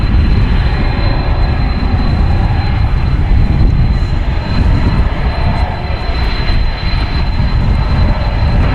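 An American Airlines jet lands on runway 18 right at Dallas Fort Worth airport: a loud, steady, broad engine roar with a thin high whine, close and continuous throughout, with no voices.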